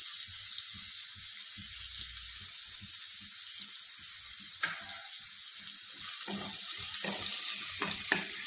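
Carrot sizzles in a frying pan while being cooked for masala noodles, a steady frying hiss throughout with occasional stirring clatter, fairly close and with no talking.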